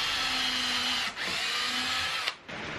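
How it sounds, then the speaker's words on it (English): A power drill bores pre-drilled holes through wooden bed slats for a queen-size bed frame, a close, loud whirring whine in long steady runs broken by two short pauses as the bit stops and restarts. "I'm going to come down about 3 inches and then put a single pre-drill hole through here"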